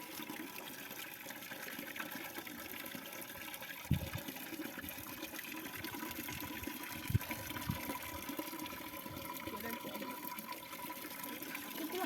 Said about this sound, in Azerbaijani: Nə yaman irəli atır bu bulaq?